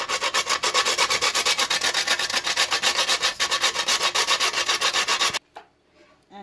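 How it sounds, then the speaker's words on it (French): Whole nutmeg rubbed briskly against a grater for sweet potato bread, a steady, fast rasping scrape in close, even strokes that runs loud and alone, then stops abruptly near the end, leaving a few faint clicks. "Donc ça c'est la noix de muscade que je vais gratter."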